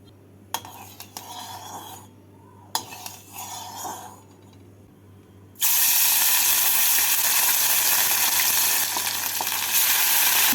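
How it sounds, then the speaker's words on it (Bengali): A few clinks and scrapes of utensils in a pan, then a sudden loud, continuous hissing sizzle as fish hits hot mustard oil and keeps frying. "তেলটাকে ভালো করে গরম করে নিয়ে মাছগুলোকে ভেজে তুলে নেব"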